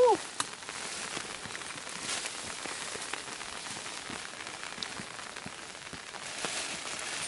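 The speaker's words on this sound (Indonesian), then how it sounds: "Perjalanan pun akhirnya dilanjutkan walau dengan kondisi hujan yang gerimis" Light drizzle falls steadily on a mountain hiking trail on Mount Sumbing via Banaran, Temanggung, with soft patter and scattered drop ticks throughout and no talk.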